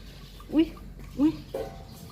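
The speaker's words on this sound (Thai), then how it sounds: "อุ้ยกินน้ำหมดโอ่งเลย" A dog laps water in two or three short, wet splashy gulps spaced about half a second apart, close by, over a quiet background.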